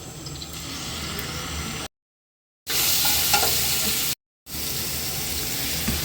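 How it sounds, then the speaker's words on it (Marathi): Minced meat for a Maharashtrian mutton dish sizzling in oil with turmeric and ginger-garlic paste, a loud steady frying hiss with stirring noises, cut by two short silent gaps. "तर आता आम्ही इथे खिम्याला फोडणी देणार आहोत आणि ह्याच्यामध्ये परत पुन्हा तेल टाकले आणि हळद टाकली आणि आलं लसूण पेस्ट."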